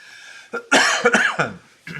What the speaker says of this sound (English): a little dry cough tonight